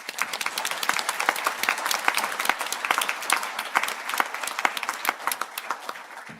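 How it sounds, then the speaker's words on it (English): Sustained applause from a seated audience at an ATU Sligo spring conferring ceremony, dense rapid clapping holding steady throughout with no talking. "We give them a round of applause."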